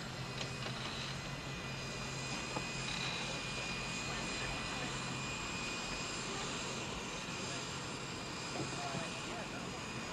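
A steady jet engine drone fills an airplane cabin in flight, a constant broadband roar with no breaks that sits under faint speech.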